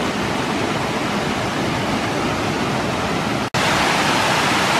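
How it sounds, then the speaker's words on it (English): The Mize Mill Falls cascade in Alabama's Sipsey Wilderness sends out a loud, steady, broadband rush of falling water, heard close up with no voices and only a brief dropout near the end. "Right on the edge of Mize Mill Falls itself."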